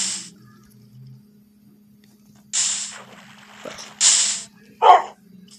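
A dog in the video game Lokicraft gives a few short, close barks or yips spaced across a quiet stretch over a steady low hum.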